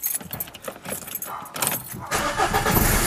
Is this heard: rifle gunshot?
no